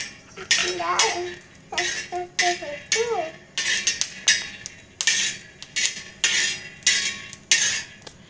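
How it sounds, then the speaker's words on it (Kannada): Peanuts roasting in a pan for brinjal chutney, stirred with a metal spoon in a home kitchen: repeated sharp scraping and clinking bursts at a steady stirring rhythm, close and fairly loud, with no talking. "ಸ್ವಲ್ಪ ಶೇಂಗಾನ ಹುರ್ಕೋಬೇಕು ಕೆಂಪದಾಗಿ"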